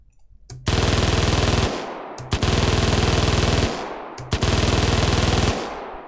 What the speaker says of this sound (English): And let's make it like an MG42.